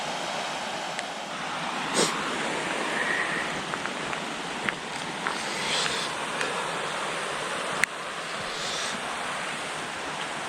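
Turbulent water rushes over a dam in a steady, broadband roar, with wind buffeting the microphone and a few sharp handling knocks and clicks at intervals.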